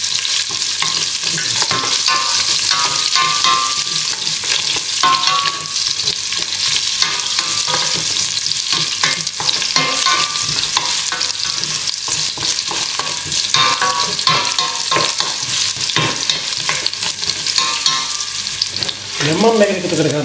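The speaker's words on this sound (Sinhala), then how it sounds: "ඊට මේක සුදු ලුණු ටික පොඩ්ඩක් ෆ්‍රයි වෙන්න දෙනවා." Garlic and mustard seeds frying in a pan for an eggplant dish, a loud continuous sizzle with constant stirring and scraping throughout.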